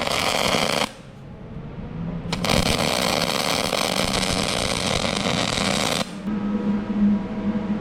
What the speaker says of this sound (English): I'm going to go ahead and just put some weld on it.